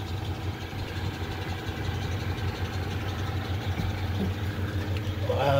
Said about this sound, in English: This truck's been sitting for a few days and it fired right up.